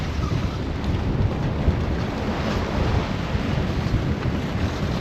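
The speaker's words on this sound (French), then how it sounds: "beaucoup de vagues qui passent par-dessus le bateau" Ocean waves wash over a sailboat at sea during an Atlantic crossing, making a dense, continuous rush of water and wind noise, loud and steady, with no voices.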